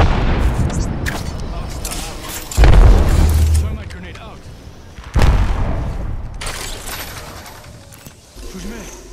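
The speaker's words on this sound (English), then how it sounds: "Throw my grenade out." Grenade blasts in Apex Legends: two heavy, close booms land a few seconds apart, each decaying into a rumbling tail amid game noise and brief voices.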